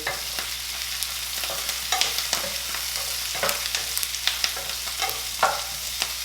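Red peppers frying in a very hot pan, a steady close sizzle broken by scattered scrapes and stirring taps throughout, with no voices.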